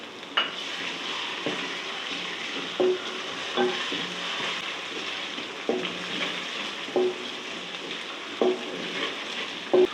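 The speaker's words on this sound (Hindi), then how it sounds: "अब इसमें मैं डालूंगी लहसुन अदरक का पेस्ट जो बचाया हुआ था मैंने" Ginger garlic paste frying with lightly browned onions in a pan for chicken kofta curry, a steady close sizzle broken by several soft stirring scrapes and taps at regular intervals, with no voices.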